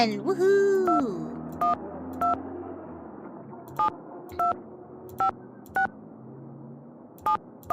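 A phone call is placed in Danger by Design: a short musical tone gives way to a series of evenly paced dual-tone keypad beeps, clean and distinct over a quiet hum.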